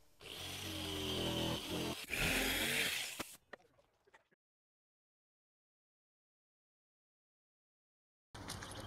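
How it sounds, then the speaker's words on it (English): A jigsaw cuts an opening through a wall for a portable air conditioner exhaust vent, starting from a large centre hole; a loud, close buzzing cut runs about three seconds, dies away with scattered clicks, silence follows, and the saw briefly resumes at the end. "The corner holes are too small to fit the jigsaw blade into, so I'm going to start in a large hole in the center and work my way out."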